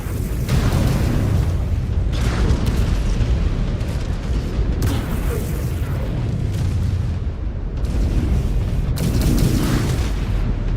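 Missile explosions in the mech combat game Mechwarrior 5: Clans, a loud, continuous barrage of heavy booms and rumbling blasts that swells in waves across the whole stretch, with no talk.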